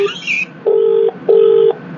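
Phone keypad dialing tones: a brief higher beep followed by two longer, evenly spaced steady tones, loud and close with no talk.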